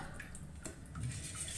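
Bitter gourd being rinsed under running water in a kitchen, a soft, steady splashing and trickling with faint handling knocks, close and alone without any voice.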